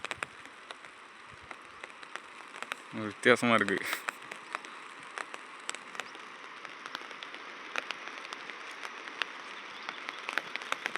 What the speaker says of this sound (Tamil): ஒரு 5 நிமிஷம் மழை பெய்யுது.